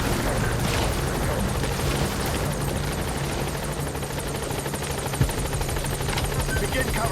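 A support helicopter in Metal Gear Solid V: The Phantom Pain hovers close by, its rotor drone loud and steady for the whole stretch with a low thudding pulse beneath a broad whooshing wash.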